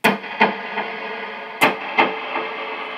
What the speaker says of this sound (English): And the delay and reverb together sound like this.